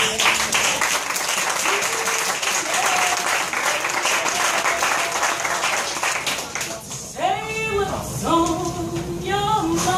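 A gathered audience at a cafe poetry event applauds in a sustained dense burst, with voices cheering and calling out over the clapping, especially toward the end.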